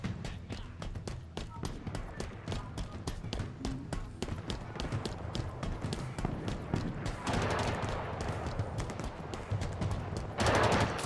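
Rapid bursts of gunfire crackle through a Halo Infinite campaign firefight, dense repeated shots in quick rhythm, with a player talking over the action and a louder burst near the end.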